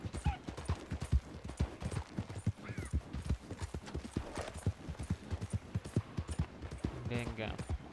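Horse hooves gallop in Red Dead Online, a dense rapid clip-clop running steadily through the whole stretch, with a voice talking over the game.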